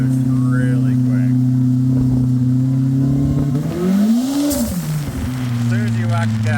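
Turbocharged car fitted with a LaRue plug-and-play standalone ECU and premium turbo kit, its engine a loud steady drone that rises sharply as the throttle is hit around the middle, then settles back to a constant hum, heard from close by.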